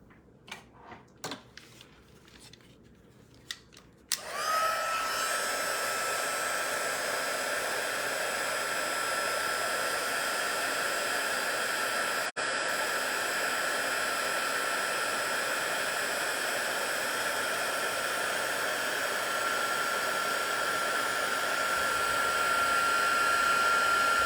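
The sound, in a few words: heat tool blowing hot air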